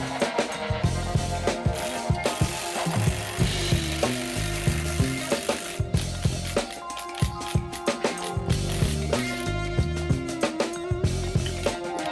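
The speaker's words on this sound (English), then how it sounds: "we have to compress the springs with spring compressors" A Mini Cooper S coil spring being compressed with spring compressors during a lowering spring install, a rhythmic run of ratcheting clicks and metallic tool strokes repeating steadily, close and loud, with no talking.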